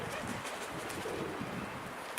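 Pigeons feed at a trap spot outdoors, with soft cooing and faint bird sounds under a steady wash of wind noise, ending in a brief flutter or knock.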